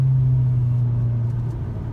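A new Alpine A110 sports car engine holds a steady, deep idle rumble close by, smooth and continuous with no revving.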